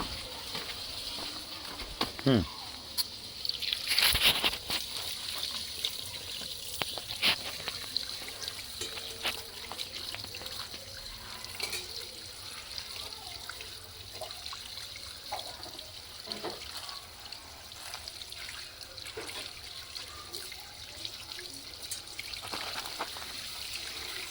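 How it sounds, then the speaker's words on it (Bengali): Water runs steadily from a household tap, trickling and splashing as something is rinsed under it at a home sink, with brief louder splashes early on and a faint voice now and then. "দাঁড়া কল থেকে ধুয়ে এনে দিচ্ছি একটু"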